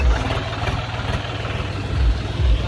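A tractor engine idling and misfiring after standing, with fuel not fully reaching the pump: a close, low, uneven diesel chug with irregular thumps, alone and steady throughout.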